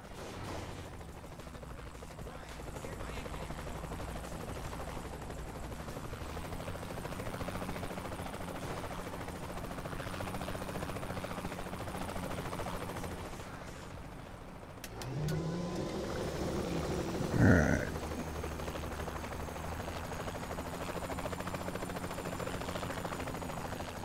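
A helicopter in Saints Row: The Third drones steadily with a continuous rotor roar, joined near the end by a sharp burst and a louder thump amid other game noise.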